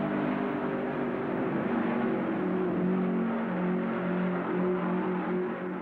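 Race cars at the 1967 Indianapolis 500 produce a continuous loud engine drone and roar, with steady humming tones and no pause. Graham Hill's car is having problems.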